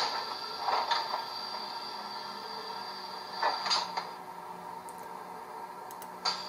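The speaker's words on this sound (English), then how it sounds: "F11 does your door opening noises" Door-opening effect from a Rapido Amtrak F40PH NPCU model locomotive's DCC sound decoder: several quiet mechanical clunks and clicks with a steady hum beneath, faint and spaced out, with no voices.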